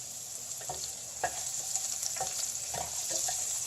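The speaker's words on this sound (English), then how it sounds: "as I'm frying this, in the oil, sauteing it in the oil" Turnips frying and sautéing in hot oil, a steady close sizzle with occasional brief stirring clicks and scrapes throughout.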